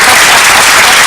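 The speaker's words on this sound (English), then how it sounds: "I think you'd like to give a round of applause to all our gallant people" A television studio audience breaks into a loud, dense round of applause for the guests of a programme on alternative therapies, filling the moment with uninterrupted clapping.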